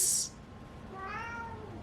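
A house cat meows once with a rising, then falling tone, fairly close and clear over a quiet room, following a brief burst of high hiss at the start.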